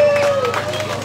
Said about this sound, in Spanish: Recibámosla con un fuerte aplauso.